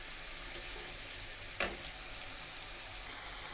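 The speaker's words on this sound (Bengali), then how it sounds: "দেখুন মশলাগুলো আমি দিয়ে দিয়েছি, ভালো করে কষিয়ে নেব।" Spices are sautéed in a pan with a low, steady sizzle and hiss. One brief scrape or clatter sounds near the middle, with no voices.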